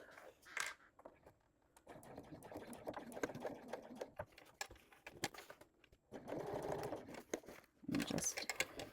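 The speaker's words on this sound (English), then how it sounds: "Back stitch at the beginning" Sewing machine back stitching the start of a dopp kit seam in short bursts of close whirring, separated by clicks, fabric rustling and brief pauses.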